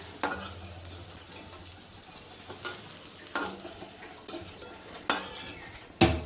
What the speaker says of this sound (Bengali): তেলটা গরম হয়ে গেছে, বড়িগুলো ভেজে নিই